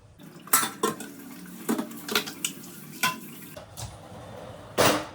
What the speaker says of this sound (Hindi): बर्तन धो लूं।